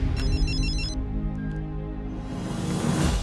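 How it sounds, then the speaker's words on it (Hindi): A phone ringtone for an incoming call plays loudly in a drama scene, a repeating electronic melody over a sustained musical background that fades as the tones stop partway through. "जननी का फोन आ रहा है"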